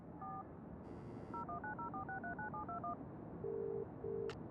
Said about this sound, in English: Perhaps I should make a call.